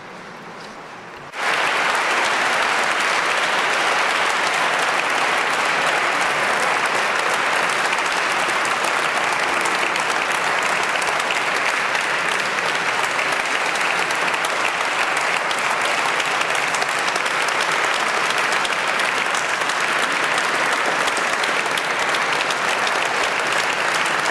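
Audience applause after a speech at an Expo Milano 2015 water strategy event, a loud, sustained roar of clapping that bursts in suddenly and continues unbroken for over twenty seconds.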